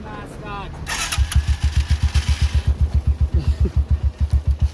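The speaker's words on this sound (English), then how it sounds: "warm up the engine, you know?" A motorcycle engine starts up and settles into a rhythmic, pulsing idle, loud and close, with some talking and noise just before it catches.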